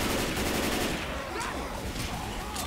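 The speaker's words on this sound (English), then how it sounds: "Stop shooting." Dense automatic gunfire and overlapping shots in the Left 4 Dead 2 No Mercy campaign, loud and continuous throughout with no gaps between bursts.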